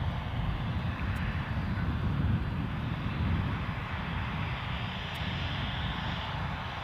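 An easyJet Airbus A320 at Edinburgh Airport gives off a steady, roaring jet engine drone that stays loud and constant for nearly seven seconds without speech.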